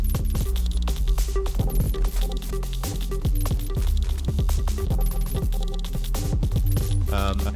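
A Make Noise Morphagene repeats quarter-bar buffers of audio as glitchy, stuttering loops: dense rhythmic bursts with clicks, scratchy transients and a deep sustained bass, recurring in a choppy pattern at steady loudness with no talking.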